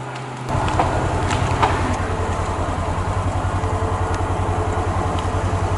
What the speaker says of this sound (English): Nice John Deere equipment.